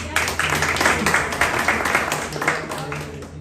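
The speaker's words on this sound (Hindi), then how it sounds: "दोबारा बजाएंगे जोरदार ताली" An audience at an entrepreneurship seminar breaks into loud, dense applause after a recited poem, a continuous roar of many clapping hands close by, with a voice faintly mixed in underneath.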